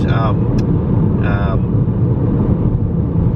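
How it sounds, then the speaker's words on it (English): Steady, loud road noise fills the cabin of a moving car that is gliding along the road, a continuous low rumble with brief faint high tones near the start and again around the middle. "now that I'm standing and listening to it, I can hear a bit of road noise"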